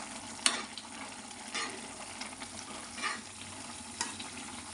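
Palak (spinach) curry with onions cooks down in a pan with a low, steady bubbling sizzle, punctuated by several light scrapes and taps of a spoon stirring, quiet and close with no speech.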